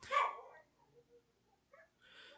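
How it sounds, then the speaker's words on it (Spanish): Dogs bark outside, one sharp close-ish bark followed by faint, scattered distant yips and woofs over near silence. "Festival de Perros afuera."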